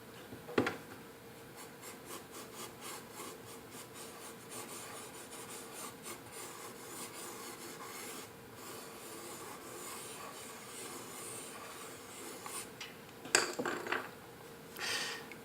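A pencil scratches and rubs across paper while sketching a pear, with continuous soft strokes, a few sharper taps, and a brief louder burst of scribbling near the end; no one talks.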